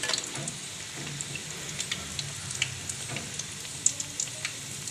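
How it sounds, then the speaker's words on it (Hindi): Bread pakoras deep frying in oil, a low, steady sizzle with scattered small pops and crackles, close and fairly quiet with no talking. "ये सारे तैर रहे हैं, आहिस्ता आहिस्ता फ्राई होंगे और क्रिस्पी बनेंगे"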